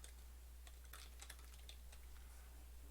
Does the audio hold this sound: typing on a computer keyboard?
yes